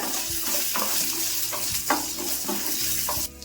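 Fennel, poppy seeds, cardamom, cashews and green chillies fry in oil in a pan, a constant close sizzle broken by several sharp scraping stirs, with no talking.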